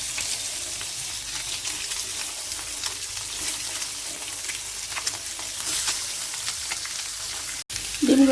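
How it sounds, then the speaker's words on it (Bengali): Duck eggs fry in oil seasoned with chili and turmeric powder in a kadai, giving a steady, close sizzling hiss that runs without a break and ends with a brief clatter. "ডিমগুলো আমি উল্টে পাল্টে ভেজে নিয়েছি"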